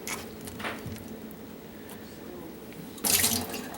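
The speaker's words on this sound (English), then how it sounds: "we're gonna grab the wet wheel and soak it in water" Tap water runs into a sink to soak a dental wet wheel during provisional crown prep, a soft patter with a louder gush of flow starting near the end.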